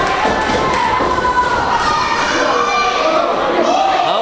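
A crowd at an independent wrestling event cheers and shouts continuously, a dense roar of voices with rising whoops and occasional thuds, fairly loud throughout.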